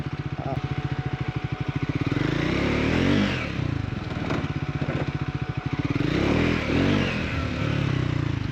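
A Triumph Scrambler 400X motorcycle engine drones steadily while riding on a road, with loud, continuous running and swelling revs that rise and fall twice, and no talk.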